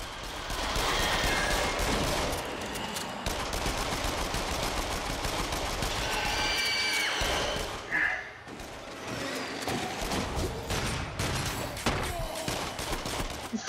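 Rapid gunshots from the video game Until Dawn: Rush of Blood, dense fusillades of close firing that stop and restart, with a short quieter stretch near the middle.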